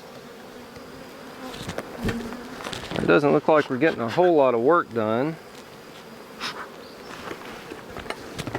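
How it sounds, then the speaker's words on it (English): Honeybees buzz steadily around an open beehive late in the season, a soft continuous hum running through the whole stretch while someone talks over it for a couple of seconds in the middle. "A lot of bees up here."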